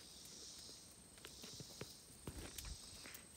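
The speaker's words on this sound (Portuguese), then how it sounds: "Só ouço o barulho das cigarras." A steady high-pitched drone of cicadas at night at a cabin campsite runs throughout, faint and continuous, with scattered soft clicks and taps nearby.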